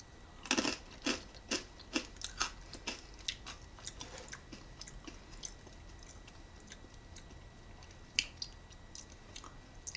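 Close, quiet crunching of guacamole-flavored corn stick snacks: a quick run of crisp bites early on, then sparser, evenly spaced chews and one sharper crunch later, with no talking.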